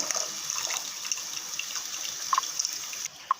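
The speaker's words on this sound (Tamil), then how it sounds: "நம்ம ரெண்டாவது கரைச்சல் வந்து ஊற்றிடலாங்க" Tamarind extract for a hotel-style fish curry is poured in a steady, splashing trickle that runs unbroken for a few seconds and is heard alone.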